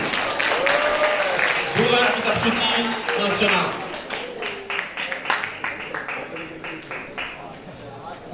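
At a Catholic National Bible Month event, someone speaks over a microphone and then an audience breaks into scattered applause, claps rising under and after his voice.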